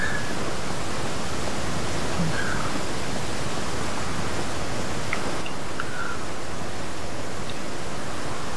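Steady broadband rush of a waterfall in the video game Devil May Cry 4, a constant close wash of falling water filling the scene with only faint game tones over it and no talking.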